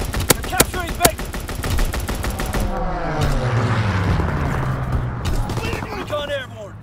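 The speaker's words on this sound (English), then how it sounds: "Strafing run inbound." Aircraft strafing run in the World War II shooter Call of Duty WWII: sharp spaced gunshots at first, then a roaring, rumbling sweep of plane engine and heavy fire rising and fading, loud, with radio voices over it.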